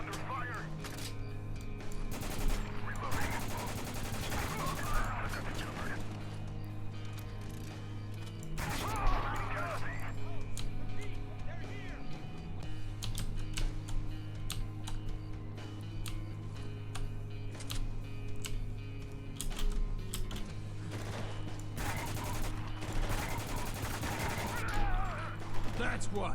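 Gunfire crackles through a Spec Ops: The Line match, dense bursts of shots over a constant low game hum, with a player talking across much of it.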